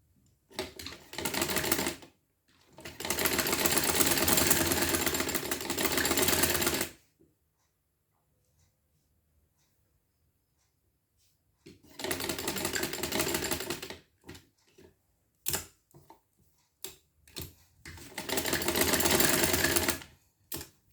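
Sewing machine stitching fabric for a frill frock suit, loud rattling runs of stitching a few seconds long separated by quiet pauses and short bursts, with no talk.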